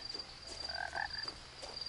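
Frogs croak and ribbit in a video game setting, a few short tonal calls clustered near the middle over a steady faint ambient hum and a high insect-like whine, with no talking.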